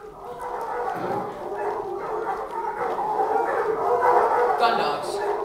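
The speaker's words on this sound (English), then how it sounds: "Gun dogs." Gun dogs bark at a countryside shoot, a mix of yips and whining barks at middle distance that repeat through the clip over a continuous background murmur.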